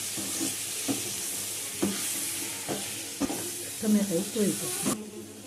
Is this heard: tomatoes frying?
yes